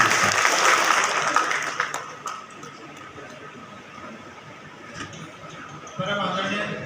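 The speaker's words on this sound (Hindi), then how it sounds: "जोरदार तालियों से स्वागत करते हैं।" A hall audience at a bar association function applauds to welcome a judge; dense clapping swells at the start, thins out into scattered claps, then rises again near the end while a voice talks.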